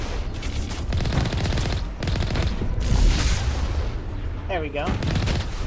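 Tank cannon fire and gunfire in the Mass Effect video game, a dense run of loud repeated blasts and rumbling booms that continues throughout, with someone talking over it.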